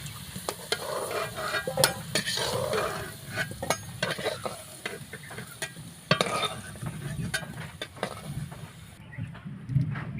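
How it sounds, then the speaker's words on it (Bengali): Potatoes frying in oil in a pan, a dense continuous sizzle close by, broken by repeated scrapes and clicks of stirring. "দেখো আমার আলুগুলো কিন্তু লাল লাল করে ভাজা হয়ে গেছে"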